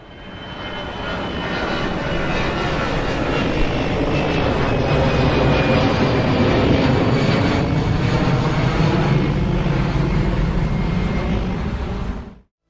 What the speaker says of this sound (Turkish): İşte uçak bu şekilde ses çıkarır.